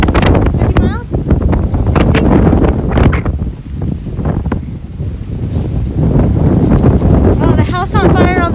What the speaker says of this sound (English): How strong do you think those gusts are?